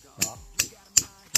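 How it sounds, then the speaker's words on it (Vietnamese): Nails being hammered into a tree trunk for climbing in the Central Highlands forest during the rainy season: four sharp, evenly spaced blows ring out with short decays between them, close by. "đang phải đóng đinh nhá"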